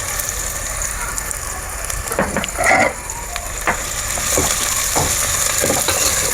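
Onions and green chilies frying in a pan for a country-chicken curry, a loud, dense crackling sizzle close by with occasional sharp stirring scrapes and clinks.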